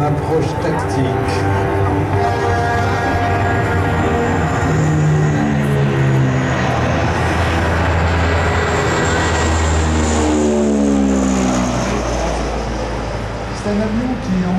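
A Transall C-160 military transport propeller aircraft drones loudly overhead on a tactical approach at La Ferté-Alais, engine pitch shifting as it passes, with someone talking over the steady roar throughout.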